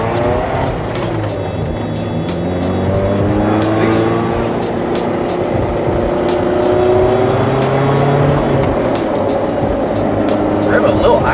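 Honda S2000 engine revving while being driven, a steady loud drone with rising and falling gear tones and shifting pitch running throughout, with occasional clicks and road noise.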